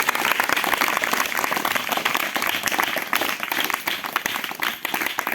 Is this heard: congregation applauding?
yes